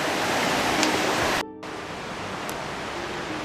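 Stover Creek rushing beneath a trail bridge on the Appalachian Trail in Georgia, a steady, close broadband water roar with a brief dropout near the middle, no voices.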